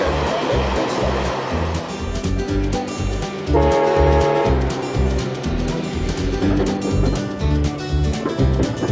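Scenic passenger train in the Adirondacks rumbling along the rails, with a loud, rhythmic low clatter of wheels and a brief tonal horn-like hum in the middle, close and continuous.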